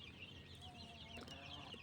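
A yellow rooster and his hens cluck and murmur softly around a backyard pen, with low continuous calls over a faint steady background hum.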